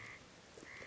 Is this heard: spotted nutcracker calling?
yes